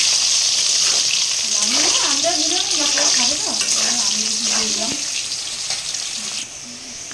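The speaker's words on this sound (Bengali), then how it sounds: "সাথে আলুটা হালকা ভেজে নেওয়া হয়" Potatoes frying in oil for a crab curry make a loud, dense sizzle that runs the whole way. A faint voice hums or murmurs underneath partway through, and the frying softens slightly toward the end.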